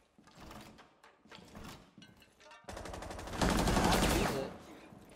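Shotgun blasts and gunfire in Rainbow Six Siege, several sharp shots early, then a dense loud burst of rapid firing toward the end, with no talk.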